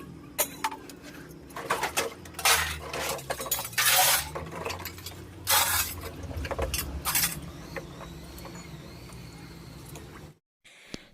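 Metal dishes and utensils clink and clatter while being washed by hand with cow-dung ash in a rural Indian household, in bursts of scrubbing and rattling with pauses between.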